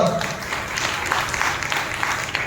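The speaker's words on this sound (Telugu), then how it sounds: "చప్పట్లు కొట్టి ప్రభువును మహిమపరచుదాం" A church congregation claps together in a short burst of applause, fairly close and steady.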